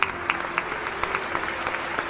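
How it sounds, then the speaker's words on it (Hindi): Seated audience at a Kumar Vishwas talk applauding, a moderate, sustained clatter of hands with a few sharper individual claps, alongside a faint steady hum. "ये जितने लोग बैठे हैं इन सब ने ताली बजाई इस बात पर"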